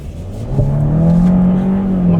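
A 1.6-litre turbo engine in a new Kia Sportage accelerates steadily, its droning note rising in pitch over two seconds, loud and close with no talking.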